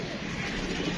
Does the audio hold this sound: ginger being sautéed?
no